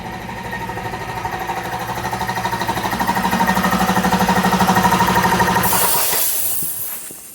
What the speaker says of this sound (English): Can hear how much air those die grinders use, and that big air compressor can hardly keep up.